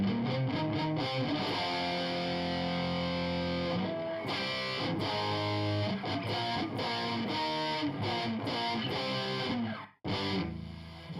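Electric guitar run through an octave effect, a thick distorted tone playing a melodic line with sustained notes and occasional bends, loud and continuous, with one short break near the end.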